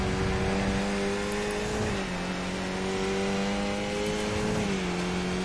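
Race car engine in a sim racing game, a loud continuous whine that holds pitch, dips briefly at each gear change and climbs again, steady and close with no talking.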